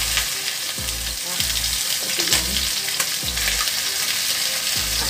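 Chicken pieces frying in a pan with fat rendering out into oil give a loud, constant sizzle and crackle close by, with rhythmic low thumps from stirring.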